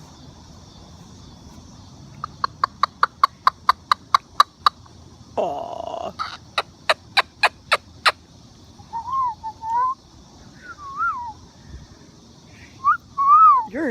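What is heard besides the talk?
Moluccan cockatoo vocalizing outdoors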